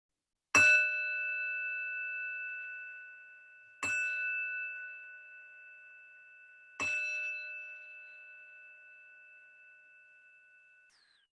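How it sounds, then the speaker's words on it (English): A meditation bell struck three times, each clear ring sounding alone and slowly fading away into silence. "ending the practice when you can no longer hear the sound of the bell"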